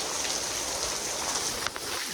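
Heavy rain pours down in a dense, steady hiss, with a brief clatter near the end.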